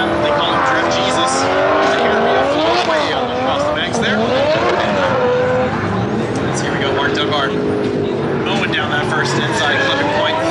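A drift car on a Spec D round 3 competition run roars loudly throughout, its engine note rising and falling with hard revving, tires squealing, and a commentator talking over it.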